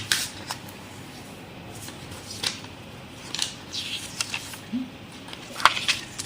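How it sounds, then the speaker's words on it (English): A square of paper is folded in half for a paper hanbok craft, giving faint, scattered crinkles and soft creasing rustles close by, with quiet room tone and no voice. "Okay, so I'm going to fold it in half like this."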